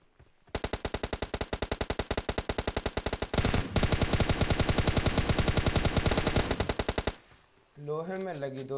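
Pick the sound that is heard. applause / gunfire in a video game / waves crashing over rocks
gunfire in a video game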